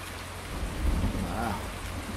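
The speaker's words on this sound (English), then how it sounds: "I've never heard thunder before in Farming Simulator." Heavy rain pours steadily in the Farming Simulator 19 video game, with a low rumble of thunder swelling in the middle of the short stretch.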